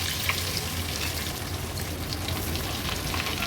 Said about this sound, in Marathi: चला मग एका बाजूला तेल पण गरम झालं आहे, हे पॉपकॉर्न तळून घेऊया.